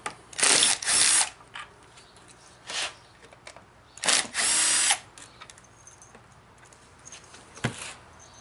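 A power drill backs screws out of the blocks under a dining room chair seat, giving several short, loud whirring bursts with quiet gaps and faint handling noises between them.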